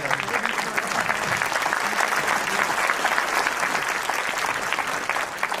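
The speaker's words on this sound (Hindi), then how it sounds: "अभी शुरू में तालियां इतनी बजती है बेटा" An audience at a Hindi comedy poetry gathering (kavi sammelan) claps loudly and continuously, a dense sustained round of applause from a large crowd lasting the whole stretch.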